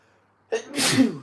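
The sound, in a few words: sneeze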